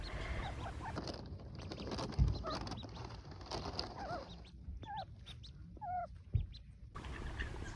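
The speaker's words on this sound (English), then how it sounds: "I'll insert a clip now of us feeding the ducklings" Ducklings being fed at a campsite give a few faint, high peeping calls over a quiet, rumbling outdoor background, with occasional soft knocks and no clear talk.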